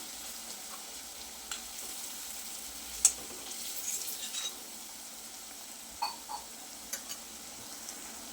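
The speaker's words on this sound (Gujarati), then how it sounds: "આદુ મરચાં અને લસણની પેસ્ટમાંથી કચાશ દૂર થાય ત્યાં સુધી એને આપણે આ રીતે સોતે કરવાની છે" Ginger, chili and garlic paste sautéing in a pan gives a soft, steady sizzle, with occasional faint clicks and scrapes from stirring over the low frying hiss.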